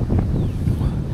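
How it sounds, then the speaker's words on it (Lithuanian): Strong wind gusts buffet the microphone at an outdoor riverside campsite during a kayak trip, a loud, close, rumbling roar with uneven surges over the brief stretch. "Va vėjas"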